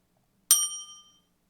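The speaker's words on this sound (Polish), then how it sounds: "w tym miejscu dodam sobie jeszcze efekt dzwoneczka" A single bright bell ding rings out, its clear metallic tone decaying quickly into silence.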